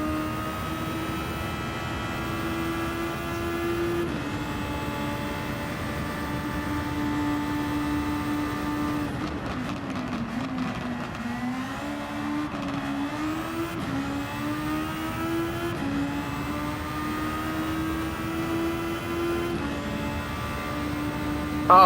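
Formula 1 car driving a lap, a steady high-pitched engine whine rising and falling through gear changes, with a dip as it slows into a corner before accelerating again, continuous and fairly close.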